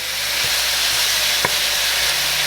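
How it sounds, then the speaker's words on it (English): Loud, steady sizzling of ground beef frying in a pan, a constant crackling hiss with a couple of brief clinks, close up and without talking. "Oh, I live for the sizzle."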